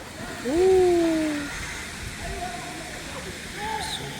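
A waterfall pours into a large resort swimming pool on the Sokhna coast, giving a steady rushing wash of water throughout, with faint tonal chirps over it and no clear talk.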